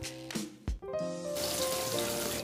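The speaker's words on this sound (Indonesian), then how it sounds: "Lanjut tumis bumbu dengan minyak goreng secukupnya." Spice paste sautéing in cooking oil for an Indonesian festive dish, a steady bright sizzle that starts after a few brief knocks and then runs loud and continuous near the pan.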